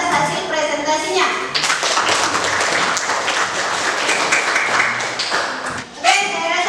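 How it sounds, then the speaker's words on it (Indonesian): A classroom audience applauds a group's presentation, a sustained dense burst of clapping from many hands lasting several seconds, with a teacher's voice talking before and after. "Kita berikan aplaus kepada kelompok 1 atas hasil presentasinya."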